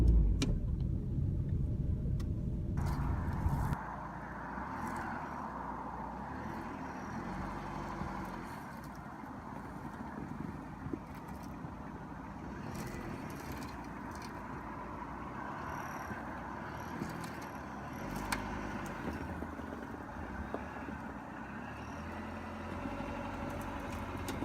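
A Neon car's engine idles and moves steadily as it positions a 240SX, with a louder rev at the start before settling into a continuous mid-level engine drone, no talk.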